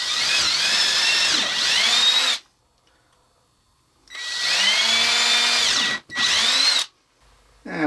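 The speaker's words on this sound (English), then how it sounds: "I'm gonna drill some 1/4 inch holes here" A power drill whirs loudly through wood in three bursts, boring 1/4 inch holes, the motor pitch shifting as it bites in, with short quiet pauses between holes.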